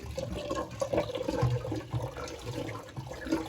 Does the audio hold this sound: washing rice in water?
yes